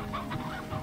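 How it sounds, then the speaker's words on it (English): Chickens cluck briefly in the game Slime Rancher, hens bunched together, a short steady cluster of clucking with no talk. "There's so many hen hens."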